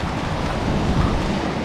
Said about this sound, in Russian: Море вроде бы успокаивается потихоньку.